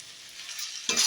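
Banana flower curry (mochar ghonto) being stirred with ghee in a wok, giving a soft steady hiss of sizzling that swells near the end as the spoon scrapes through, with no voices.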